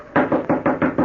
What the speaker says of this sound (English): I knocked on the stable door.